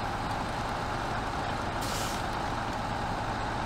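A heavy truck rumbles steadily through a swamp in the off-road game SnowRunner, a loud continuous engine drone with a brief hiss of air midway and no talk.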